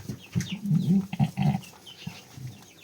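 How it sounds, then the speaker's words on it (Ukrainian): Mother goat with newborn goat kids: close, nasal bleats and grunts come in quick bursts, loud for the first two seconds, then fade to a few faint cries. "Дякую за козликів."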